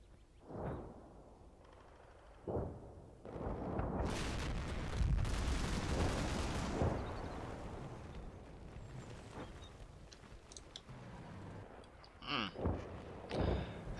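Artillery fire mission in the Combat Mission war game: scattered booms, then a long rumbling barrage of overlapping explosions that fades, with a few sharper distant blasts near the end.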